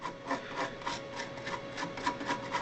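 An old toothbrush scrubs loose debris off a PS3 circuit board, giving a steady run of close, dry brushing strokes in a regular back-and-forth rhythm, with no voice over it.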